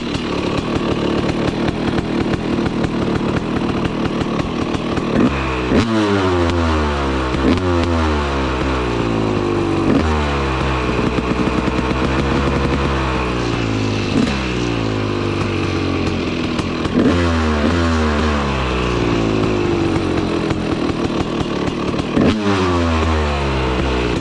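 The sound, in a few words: two-stroke motorcycle engine revving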